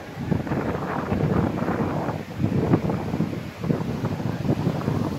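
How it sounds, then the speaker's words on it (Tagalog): Strong wind buffets the microphone on Boracay beach while big waves surge and wash in, a continuous loud roar that rises and falls. No one speaks. "Sobrang hangin at saka ang lakas ng alon, no?"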